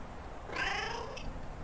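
A single soft cat meow from a Christmas puzzle adventure game rises and falls over about a second, faint and alone above a low background hum.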